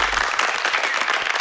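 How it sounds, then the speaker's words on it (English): Brief, dense applause from an audience, steady loud clapping throughout with no gaps. "a round of applause for me"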